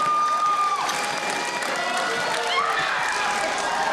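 Spectators at the 2008 Viking Power Challenge strongman event make a loud, steady broadband roar of cheering and applause that runs the full length without pause, with a commentator's voice mixed in.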